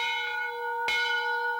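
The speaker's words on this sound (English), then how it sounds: "That's the sound of the original bell used back in the early days of trains traveling in and out of the Oyster Bay Railroad Station." Original bell from the early-days Oyster Bay Railroad Station, struck once with a sharp clang and a long, steady ringing tone that hangs on alone, fairly close.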